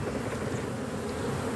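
Honey bees at an opened beehive give a steady, dense buzzing drone that stays close and continuous throughout, with no talking.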